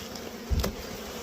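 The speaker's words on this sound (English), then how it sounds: "Give them a little bit time to fly back to the hive, or at least get out of these supers." Honey bees flying around beehive supers in an apiary yard make a continuous buzzing hum, with one bee passing close by in a brief louder swell.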